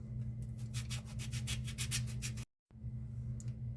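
Rhythmic rasping strokes of a multi-tool file scraping red phosphorus off a matchbox striker, about a dozen quick back-and-forth passes over a low hum, briefly cut off.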